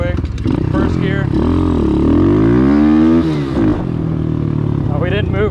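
Apollo Z20 dirt bike engine revving hard in first gear, a loud close rasping drone that climbs in pitch, drops off, then revs up again, with a voice talking underneath.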